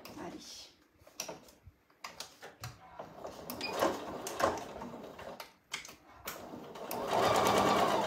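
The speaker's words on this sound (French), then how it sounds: "je vais venir faire une petite couture de maintien avec mon pied" Sewing machine stitching a holding seam on a backpack with the presser foot, short bursts of rapid whirring that build to a steady close run near the end, with a voice speaking between bursts.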